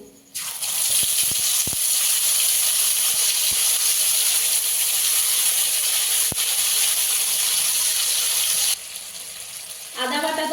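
A ground cumin and coriander paste hits hot oil in a pan, giving a loud, steady sizzling hiss that runs for several seconds, then drops away and returns as stirring resumes.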